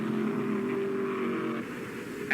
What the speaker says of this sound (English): Just look at the sound of those engines.